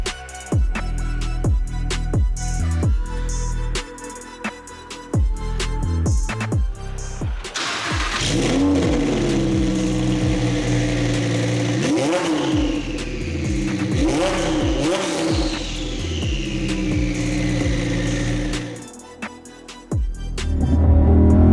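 A 1000 hp twin-turbo rear-wheel-drive Audi R8 burbles and pops, then pulls hard through several gears at half throttle, each gear a long rising whine that drops sharply at the shift, loud and close from inside the car.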